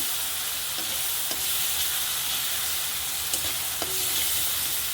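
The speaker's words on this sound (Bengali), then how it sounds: "মশলাটা কষিয়ে নিচ্ছি" Spice paste frying in a pan before fish and greens go in gives off a dense, even hiss of sizzling, with a few faint scrapes from stirring.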